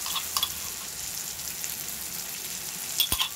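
Ginger paste sizzles in a frying pan while chicken do pyaza is being cooked, a steady close hiss that runs throughout with a few brief louder crackles near the end. No one talks.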